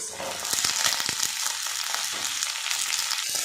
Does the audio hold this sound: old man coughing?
no